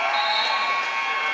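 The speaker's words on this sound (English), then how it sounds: "Nice sarcastic cheer from the visiting fans." A crowd of visiting high school basketball fans lets out a loud, sustained sarcastic cheer in a gym, a dense wash of voices lasting about a second.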